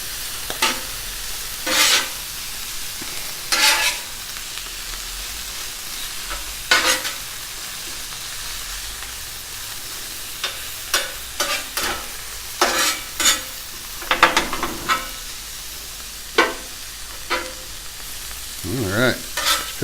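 Canned mushrooms cooking on a grill for a steak sandwich give a steady low sizzle, broken by repeated sharp scraping and clattering bursts from a spatula at irregular intervals.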